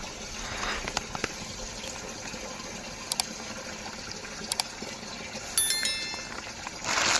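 Irrigation water for a grape vineyard flows and gushes steadily at low volume, broken by a few sharp clicks and a louder splashing surge near the end.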